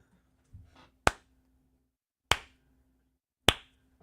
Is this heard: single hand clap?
yes